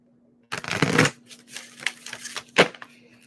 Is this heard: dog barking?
no